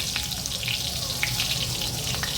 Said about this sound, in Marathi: तेल तापले की 1 हिरवी मिरची, 1 लसणाची पाकळी ठेचून घातली आहे